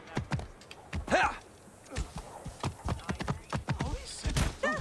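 Horse hooves clip-clop in a steady riding rhythm in Assassin's Creed Origins, fairly close, with occasional voices talking over the gait.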